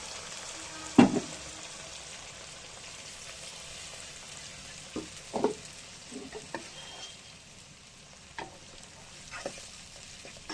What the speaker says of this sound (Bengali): মশলাটা এবার একটু কষিয়ে নেব ভালো করে।